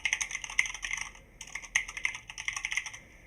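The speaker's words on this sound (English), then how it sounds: "I assume my keyboard's a bit loud" Rapid clicking of keys on a computer keyboard, close and clear, in irregular bursts with a short pause midway.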